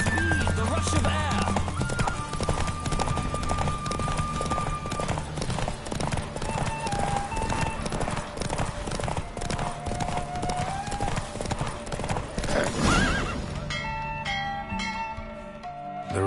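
A galloping horse in a Witcher 3 race drums a quick, steady hoofbeat up close, mixed with snorts and whinnies, game music and spoken voices, then breaks off near the end.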